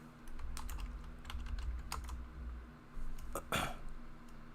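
A name is typed on a computer keyboard: quiet, uneven clicks of keys close by over a low hum, with a faint throat sound near the end.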